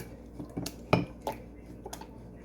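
Soft squelching and clinking as a utensil mashes watermelon against a bowl, a few irregular knocks with one louder thump, fairly close.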